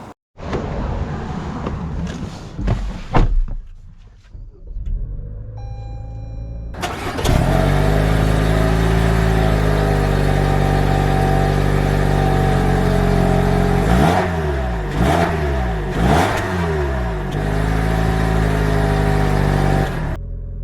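A 2022 Toyota RAV4 XLE Premium: a few clicks and rustles, then the engine starts and settles into a loud, steady close hum, with brief rises and falls in pitch as it revs.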